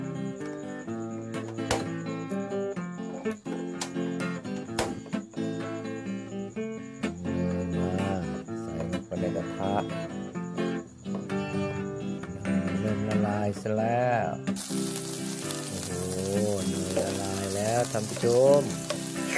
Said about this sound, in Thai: ตอนนี้เราก็จะทอดให้กิน